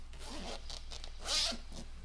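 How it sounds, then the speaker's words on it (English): A zipper on a bag with several zippered compartments is pulled open in a few quick rasping strokes, close and crisp, with the longest, loudest pull near the end and no talking. "you have 3 zippered areas inside the main zipper."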